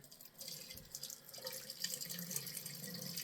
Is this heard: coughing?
no